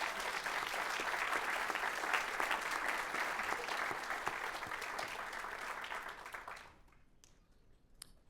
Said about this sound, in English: Let's give Kristen a round of applause.